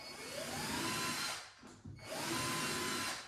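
Power drill with a centring bit starting a screw hole while fitting plinths in carpentry work, two close whirring bursts with rising pitch separated by a brief pause.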